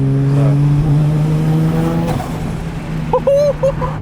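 A 400HP Toyota Chaser with a 1JZ engine holds a steady, loud drone that swells as it revs, then a brief tire squeal near the end, with a voice talking faintly underneath.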